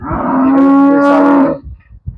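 A cow on a farm near Barnala lets out one loud, close, drawn-out moo, followed by a few soft snorts and breaths.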